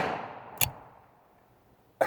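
Two sharp pistol shots ring out about 1.4 seconds apart from a WW1-era 1911 pistol with a sluggish action. A fading echo from an earlier shot opens the clip.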